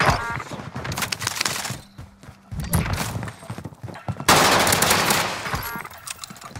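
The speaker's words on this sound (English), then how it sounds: "He's got a fucking shotgun." Shotgun fire in a multiplayer shooter match, sharp broadband blasts in quick bursts mixed with clattering game effects, loud and close, with a burst of louder noise toward the end.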